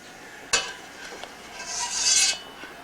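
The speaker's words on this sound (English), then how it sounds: "We're going to take out the pieces of garlic and onion that have been frying up." Fried garlic and onion pieces being lifted out of hot oil in a pan, with a sharp utensil knock, soft scraping and rubbing, and a brief louder rasping stir near the end.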